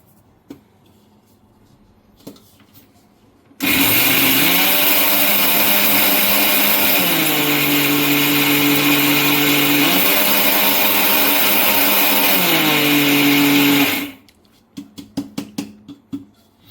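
An electric mixer grinder whirs loudly, grinding fasting dhokla ingredients into powder. It starts abruptly, runs steadily for about ten seconds with pitch shifts as the load changes, then cuts off, followed by a few faint rattles.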